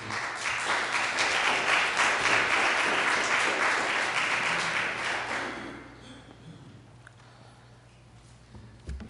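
An audience at a county commission meeting in Blount County, Tennessee breaks into loud, sustained applause that fades after about five seconds into quiet room tone.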